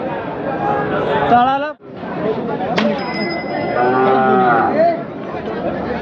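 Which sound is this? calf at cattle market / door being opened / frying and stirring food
calf at cattle market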